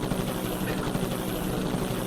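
An autopilot helicopter in the video game Danganronpa Another gives off a steady, dense rotor and engine drone that holds even throughout, loud and close with no speech over it.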